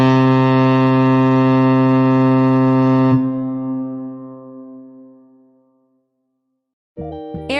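A boat horn gives one long, deep, tonal blast for about three seconds, then its resonant tail rings out and slowly fades to silence.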